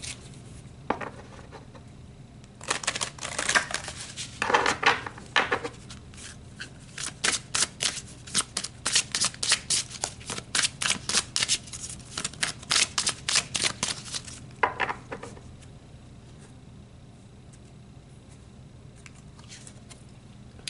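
Tarot cards being shuffled and pulled from the deck, a rapid run of crisp riffling slaps and flicks building to a dense patter, then a few quieter handling sounds, close and clear with no talk.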